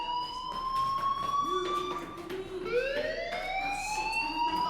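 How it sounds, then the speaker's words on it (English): A fire alarm sounds in the video game Life is Strange, a steady electronic tone holding a pitch before shifting upward, continuous and fairly loud against a faint room background, with no talking. "do you hear that fire alarm? That means you should be outside."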